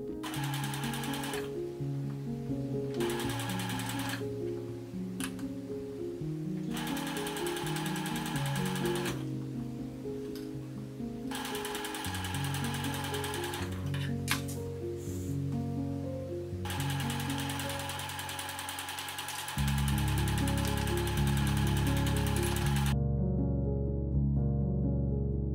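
A sewing machine stitches a hanbok neckband, but the busy tonal layers suggest background music may mask or mimic the machine hum, with no talk.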